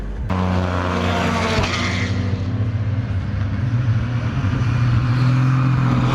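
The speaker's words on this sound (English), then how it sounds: "The cars are driving past us" GT3 race cars roar past at night during a 24-hour race, a loud continuous engine drone with rising and falling tones as the cars sweep by close, with no talking.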